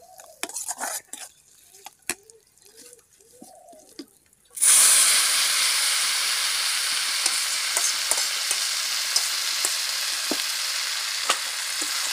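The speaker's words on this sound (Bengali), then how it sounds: "আর এই যে এদিকে শাকটা রান্না করছে।" Greens (saag) cooking in a pan: after a few seconds of faint clicks and distant sounds, a loud, steady frying hiss starts abruptly and continues with scattered sputters and stirring knocks up close, with no speech.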